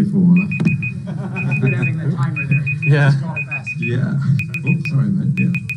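A timer alarm goes off during a video call, sounding as short high beeps in repeated quick bursts of four or five, running under people talking over the call.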